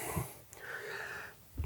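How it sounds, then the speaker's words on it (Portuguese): Heavy, raspy panting from a person out of breath after hauling a heavy MUST 3000W hybrid inverter onto a workbench; close, steady wheezy breaths for about a second and a half, no talking. "Eu tô até ofegante aqui para poder pegar esse bichinho aqui e trazer para cima da bancada"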